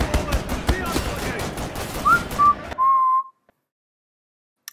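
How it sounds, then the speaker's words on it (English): A turret in Wolfenstein: The New Order fires rapid bursts at the player, with loud, dense repeated shots for nearly three seconds, followed by a brief whistle-like tone, then near silence. "After the turret starts shooting me?"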